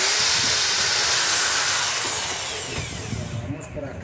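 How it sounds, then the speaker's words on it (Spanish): A small hair dryer motor armature is smoothed with 150-grit sandpaper, giving a loud, steady, broadband hissing and whirring rasp that fades slightly toward the end. "Vamos a pegarle una suavizada al inducido con una lija."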